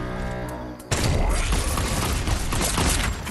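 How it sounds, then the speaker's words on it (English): Rapid, dense gunfire in Fortnite, a sharp burst that erupts after a quieter opening and stays loud and continuous to the end. "There's someone shooting."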